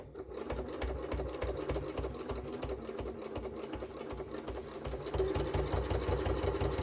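A sewing machine stitches fabric for a multi-purpose storage organizer, its needle thumping in a rapid, steady rhythm close by, growing slightly louder toward the end.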